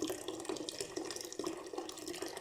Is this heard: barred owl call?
no